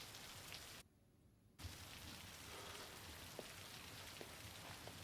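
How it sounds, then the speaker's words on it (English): Steady rain falls in a scene from the 2005 film Pride & Prejudice, a faint continuous hiss of drops with a short near-silent gap early on, heard alone without voices. "I love it when it rains, though."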